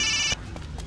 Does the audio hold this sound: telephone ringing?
yes